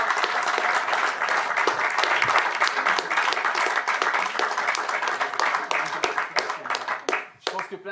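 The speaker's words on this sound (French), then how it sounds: "on peut déjà les applaudir" A conference audience applauds steadily after a talk, with dense clapping throughout that thins out and tapers near the end.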